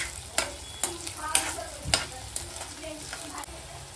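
Onion and green chillies stir-fried in a pan, a low sizzle punctuated by regular scraping and clanking strokes of a spatula about every half second, close and moderately loud, no speech.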